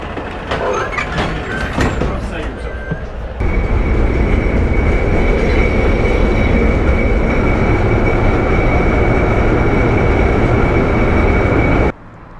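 A Soviet-era train running in a St Petersburg suburb, first rumbling with rattling clatter, then a loud steady roar with a constant whine that cuts off abruptly near the end.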